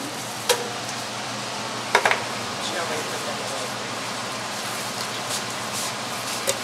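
Tomatoes frying in a pan for salsa, a continuous soft sizzle punctuated by a few clattering knocks of utensils, with people talking nearby.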